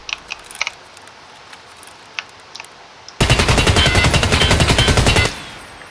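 Unsuppressed automatic gunfire in the video game SPT, a loud rapid burst lasting about two seconds after a few faint clicks and taps, then cutting off sharply.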